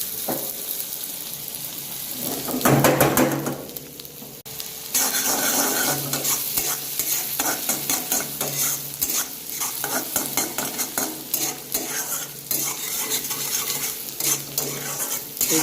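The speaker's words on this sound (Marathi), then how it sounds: "हे आपण तेल ठेवलेलं आहे अंडा भुर्जीसाठी याच्यामध्ये थोडंसं जिरं टाकून बघितलं" Chopped onion fries in hot oil with cumin for egg bhurji at a roadside dhaba, a steady sizzle broken by the scrape and clatter of a spatula stirring in the pan, close and continuous.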